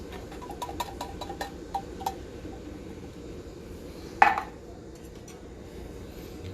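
Tomato sauce poured into simmering sofrito in a pot for Puerto Rican arroz con gandules: a run of light metallic clinks, then one brief, close, wet splash over a low steady background hiss, with no voices.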